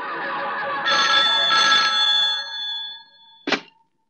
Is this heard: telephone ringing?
yes